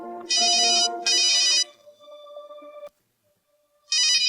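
An incoming phone call in a Malayalam audio drama rings with two bright electronic chirping bursts, a fading tone, a moment of silence, then another burst, loud and clear with no voices.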